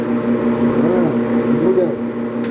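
A workshop air cleaner runs steadily nearby in a woodturning shop, a continuous droning hum with a strong low tone and a faint wavering whoosh, holding an even level throughout.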